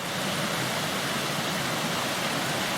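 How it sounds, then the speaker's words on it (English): Rushing water of a mountain stream on the Pen y Fan Horseshoe walk in the Brecon Beacons makes a steady, dense, broadband roar, loud and close, with no pauses or voices. "I'm accompanied all the way by the fabulous sound of rushing water"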